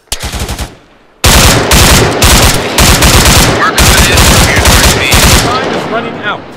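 Arma 3 battlefield gunfire from above a hill: loud, close bursts of automatic fire in rapid rhythm, a short opening volley, a second of quiet, then sustained rattling bursts with brief gaps.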